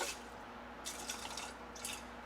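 Water is poured into a rice cooker holding rice, a soft splashing trickle in a few short bursts over a steady background hum, close and fairly quiet, with no talking.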